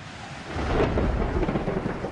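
A low rumble of thunder rolls in under steady rain during a winter storm, building after a moment and holding at moderate loudness for about two seconds.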